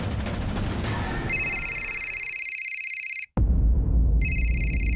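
A phone rings twice with electronic trilling bursts, broken by a short silence between rings, after background sound in an indoor room.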